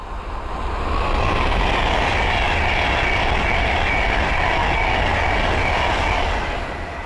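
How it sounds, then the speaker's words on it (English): A Class 390 Pendolino electric train rushes past close by at Linslade on the West Coast Main Line, a steady loud roar of wheels and motors that swells in and holds before easing slightly at the end. "the next train to pass by is an Adventure West Coast Class 390 Pentalino"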